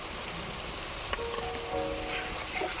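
Ginger, garlic and onion paste with green chilli fries in a pan for doi potol, a dense, even sizzle throughout with a faint scrape of stirring midway.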